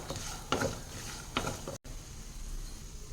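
Garlic, chilli, salt and garam masala paste dropped onto frying okra, giving bursts of sizzle and scraping stirs, two louder pushes of the spoon followed by a brief cut and a softer steady frying hiss.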